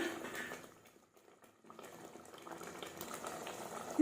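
A pot of water simmers and bubbles on the stove while palak paneer is being made, a soft, steady burble that drops away briefly before returning.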